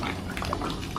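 Liquid is poured out in a brief, continuous gurgling splash with bubbly bursts, heard up close for about a second.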